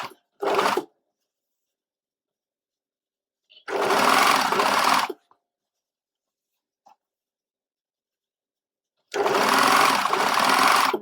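Sewing machine stitching down the edge of a corset apron in three separate bursts, a short one at the start and two longer runs of about a second and a half each, with near silence between them.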